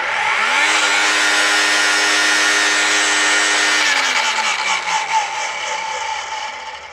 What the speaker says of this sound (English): let's see if the electric battery powered trimmer runs it.